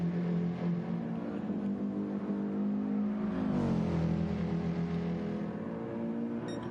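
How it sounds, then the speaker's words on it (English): A Nissan GT-R race car engine in a racing video game drones steadily at high revs, with a brief pitch sweep midway as the car passes through a turn, fairly faint and with no talk. "You see the Nissan GTR of Luby making his way through turn 2."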